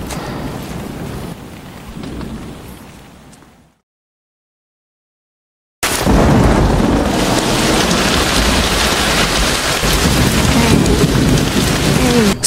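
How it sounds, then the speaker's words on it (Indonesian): Heavy night rain pours steadily alongside rolling thunder, loud and close, broken by a few seconds of dead silence before the downpour returns at full strength. "malam pun semakin berat dengan turunnya hujan yang deras"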